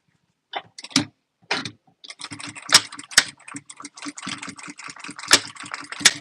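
A sewing machine stitches fabric pieces in quick close bursts, starting with short stops and then running in a steady rattling stretch, with no talk over it.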